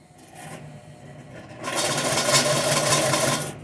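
A sewing machine stitching leather cording, starting with a softer run and then a steady, louder rapid whirring hum for the last two seconds, close up.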